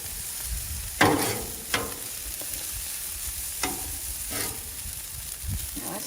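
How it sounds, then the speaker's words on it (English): Pork fried rice sizzles steadily on a Blackstone griddle outdoors in cold winter weather, a constant frying hiss broken by a few sharp scrapes and stirs of a spatula against the flat-top. "It's still not frying as good."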